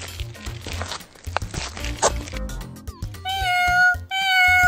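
A cat meows a few times, mixed with background music and light rustling, in a cartoon coloring story about a laser pointer.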